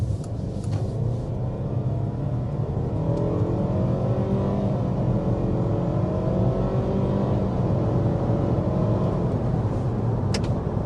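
A 2024 Mitsubishi Outlander plug-in hybrid accelerates hard to 60 mph, heard from inside the cabin as a steady loud motor and road hum with a rising then levelling engine drone, with no talking.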